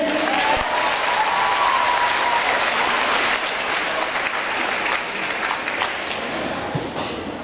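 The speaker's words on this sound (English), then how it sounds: "How about big round of applause for Mr. Bertrand?" Sustained applause from a high school audience greeting the activity coordinator, a dense, steady wash of clapping that holds loud throughout and eases only slightly near the end.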